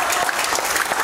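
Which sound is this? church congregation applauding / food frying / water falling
church congregation applauding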